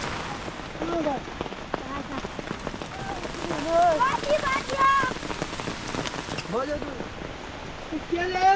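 Heavy rain patters steadily on surfaces in a Himalayan Nepali mountain village, a close, continuous hiss under nearby voices talking.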